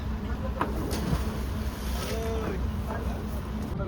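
Constant rumble and wash of a launch boat crossing water in the Sundarbans, with wind buffeting the microphone and faint voices in the background.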